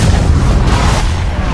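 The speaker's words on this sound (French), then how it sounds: "L'île flottante explose, ne laissant que le cube en lévitation au-dessus du vortex." A floating island blowing apart in the video game Fortnite, a loud deep rumbling blast that holds steady and heavy for its whole brief length.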